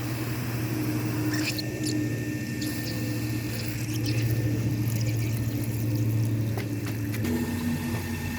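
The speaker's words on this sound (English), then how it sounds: "It's all them little holes are squirting water out down my roof. And it's running into the gutters and coming down this one pipe back into the water." Water squirts from small holes in a pipe and runs down a shed roof into the gutters of a pool heater, giving a steady faint trickling and splashing with a low pump hum beneath.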